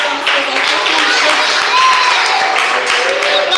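A church congregation claps loudly and continuously nearby, a dense, even wash of hand claps with voices faintly audible underneath.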